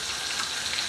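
Bacon sizzles and crackles steadily in a frying pan, a dense, even hiss with faint popping that carries on without a break and with no voices.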